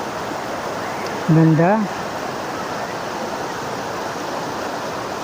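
A mountain river flows in a loud, continuous rush of water that fills the whole stretch, with one brief spoken word over it.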